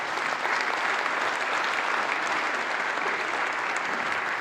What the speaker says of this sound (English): please give her a massive round of applause